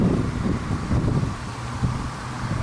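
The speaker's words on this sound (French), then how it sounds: "Il y a un peu de vent, mais on est bien quand même." Wind buffeting outdoors during a road trip, a steady close rumble of gusts against the microphone with faint rustling, no talking.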